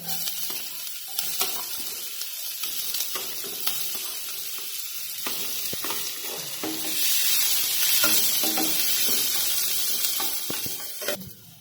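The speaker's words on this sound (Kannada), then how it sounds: "ಈಗ ಎಣ್ಣೆ ಕಾದೈತ್ರಿ. ಅದ್ರಾಗ ಸ್ವಲ್ಪ ಸಣ್ಣಗೆ ಹೆಚ್ಕೊಂಡಿದ್ದು ಉಳ್ಳಾಗಡ್ಡಿ ಹಾಕ್ತೇನ್ರಿ." Finely chopped onions frying in hot oil in a pan: a steady close sizzle that swells louder midway, with occasional stirring scrapes and clicks throughout.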